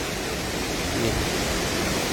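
Steady broadband rush of a waterfall, a continuous even roar of falling water heard from a moderate distance with no distinct events and no voices.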